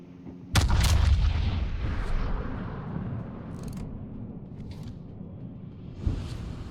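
Main battery guns on a Lion battleship boom in a naval video game, one heavy blast followed by a long rumbling roll-off and then a second softer boom near the end.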